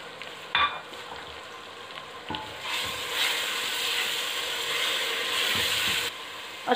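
A paste of three tomatoes hits garlic and ginger frying in a pan, and a soft background sizzle swells into a loud, continuous hiss with a few faint clinks from stirring.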